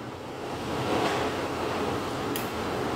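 Typhoon signal no. 10 winds in Macau roar as a broad, continuous rush that swells slightly around the one-second mark and stays loud throughout, with no voices heard.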